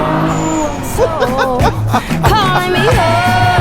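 A Kia Stinger GT at full throttle, engine note climbing through rising revs with quick shifts between pulls, loud and close from inside the cabin, with a voice speaking briefly over it.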